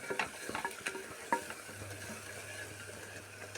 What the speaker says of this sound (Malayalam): കറിവേപ്പില ഇട്ട് കൊടുക്കുക. നന്നായി ഇളക്കി കൊടുക്കുക.